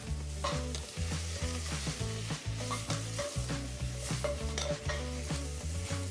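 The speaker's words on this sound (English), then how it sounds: "Just want to get a nice sear on these mushrooms before I add the shallots." Mushrooms searing in a copper pan give a steady, loud sizzle with clattering stir strokes in a regular rhythm, close up, with no talking.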